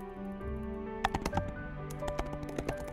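Someone typing a search query on a computer keyboard, a short run of light, quick, close key clicks over a faint background hum.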